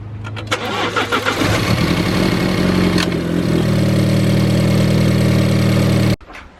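A car engine cranks with a few quick chugs, catches, and settles into a loud, steady idle after a coil pack change on a MINI F56, then cuts off abruptly near the end.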